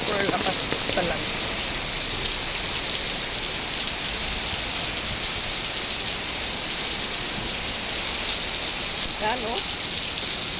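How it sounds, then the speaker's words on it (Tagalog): Heavy rain pours down steadily and loudly throughout, a dense hiss of water on surfaces with a few brief voices faintly underneath. "Ay, lakas talaga ng ulan. Super lakas talaga."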